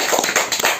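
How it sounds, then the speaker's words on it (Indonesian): A brief burst of hand clapping, a handful of quick claps close by lasting under a second. "Tepuk tangan Om."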